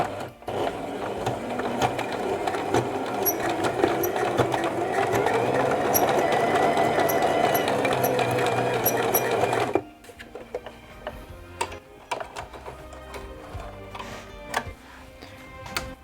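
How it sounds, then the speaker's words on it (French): Sewing machine stitching broderie anglaise trim on pajamas, a loud, steady mechanical whir with fast ticking for about ten seconds before it stops, followed by quieter handling and faint clicks. "on va coudre ici la broderie anglaise"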